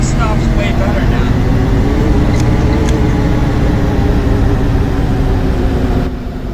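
Blue-Bird GMC CV200 school bus engine idling in Rigs of Rods, a loud steady low drone throughout with someone talking over it.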